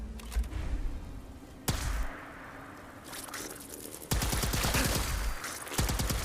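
Plasma rifle shots in the video game Fallout 4: several sharp, loud blasts with bursts of crackling gunfire, heard close up and coming in clusters with short gaps between them.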